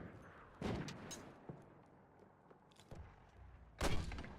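Mortar fire in a Call of Duty match, several faint, scattered thuds and booms at uneven intervals, with the loudest blast near the end and no talking.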